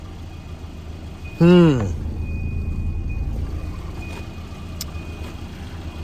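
A car engine, after an overheating repair, starts with a brief whining crank and settles into a steady low idle running on, with a short bit of speech near the start.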